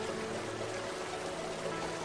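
Victoria Falls pours water in a constant, heavy rushing roar heard from nearby, even and unbroken, with no voices over it.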